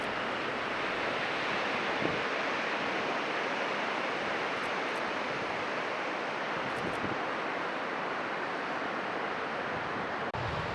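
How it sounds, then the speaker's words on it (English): Strong wind blowing across a beach in southern Hokkaido, a constant roaring rush with surf-like texture and buffeting on the microphone, steady and loud throughout. "The beach was pretty windy"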